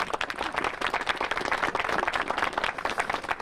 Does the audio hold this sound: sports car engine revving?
no